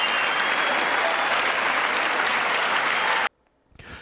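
Audience applause at the State of the Union, loud sustained clapping from a large hall crowd, even and dense, cutting off abruptly near the end before faint noise returns.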